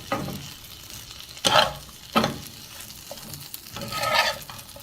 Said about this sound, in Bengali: এখন এর মধ্যে কাঁঠালের বিচিটাও ভেজে দেব।